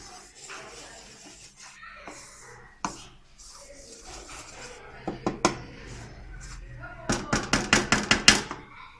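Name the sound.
mixing roasted flour and flax seeds in a pan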